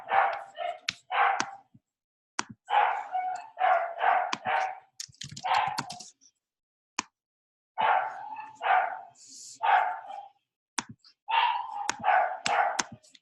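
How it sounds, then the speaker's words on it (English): A dog barks in quick clusters of several sharp barks, pausing briefly between bursts, loud and close. "barking here."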